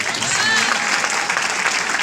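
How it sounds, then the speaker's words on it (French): An audience at a business project presentation claps steadily and loudly, a dense wash of applause with no pauses. "Applaudissez encore très fort pour ce groupe"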